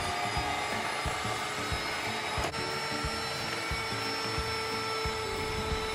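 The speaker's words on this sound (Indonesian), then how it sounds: "kita akan kocok butter, gula, serta ovalet hingga lembut dengan speed tinggi" Electric mixer beating butter, sugar and ovalet emulsifier at high speed for a cake batter, a steady, close whirring motor drone that holds unbroken throughout with no talking.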